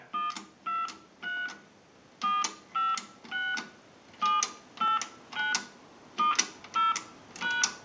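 Payphone touch-tone keypad dialing a series of numbers during repair and conversion, about a dozen short, clear DTMF beeps in an irregular rhythm with brief gaps between them, heard alone.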